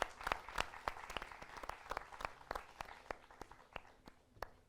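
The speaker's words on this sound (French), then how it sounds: "On peut les applaudir." Audience applause after a stage show: sparse, uneven hand claps from a small group, fairly faint and irregular, fading slightly toward the end.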